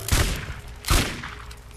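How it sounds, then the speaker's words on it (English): Two short, punchy bursts of machine gun fire in Borderlands: Moe and Marley's Death Sentence, loud and close, separated by a brief pause with lingering echo. "It was a machine gun"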